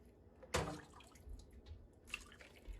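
Chicken broth from a roaster dripping and splashing while canning jars are filled, one sharp close splash followed by scattered soft drips and small liquid sounds, quiet overall.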